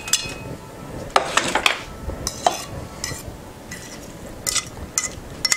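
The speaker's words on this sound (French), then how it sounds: "on va tout mélanger ça" Meat being stirred together with fusilli pasta in a pot, with irregular metallic clinks and scrapes of a utensil against the pot and soft rustling of the food, fairly close and without talk.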